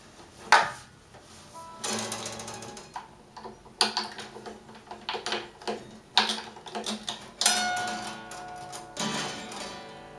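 A plastic string winder cranks the tuning key of an acoustic guitar to loosen a string, giving irregular ratcheting clicks and taps in close bursts with ringing string tones between them.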